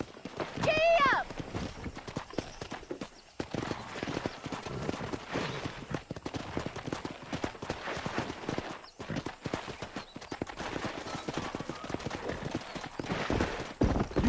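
Horse galloping in the video game Red Dead Redemption, rapid rhythmic hoofbeats running throughout with a brief whinny near the start, with a voice talking over the hooves.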